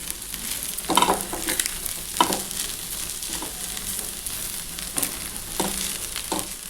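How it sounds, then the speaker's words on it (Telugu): Maggi noodles with Masala Magic seasoning fry and sizzle in a pan, with a steady crackling hiss and intermittent scraping stirs of a spoon against the pan. "వేసాక చక్కగా మనం ఇదంతాను ఫ్రై చేసేసుకుందాం ఒకసారి."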